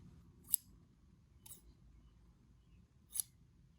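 Three sharp snips from a pair of sharpened scissors ring out close and crisp, spaced apart, over a low steady room rumble with no talking.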